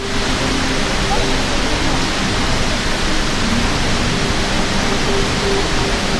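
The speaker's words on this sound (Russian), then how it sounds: "Это знаменитый водопад, визитная карточка Дубай Молла." Indoor waterfall at Dubai Mall, a steady, loud broadband rush of falling water filling the space continuously, with faint crowd murmur in the background.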